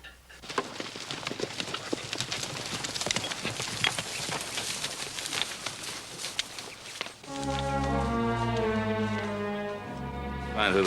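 Horses' hooves clip-clop steadily in a Western drama scene, close and repeated, first under scattered talk and then as heavier steps joined by low, droning tones.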